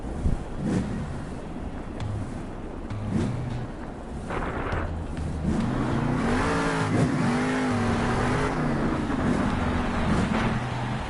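A monster truck at a Monster Jam stadium championship event in Anaheim roars and revs hard through a wheelie, its engine note rising and falling loudly and continuously over crowd noise.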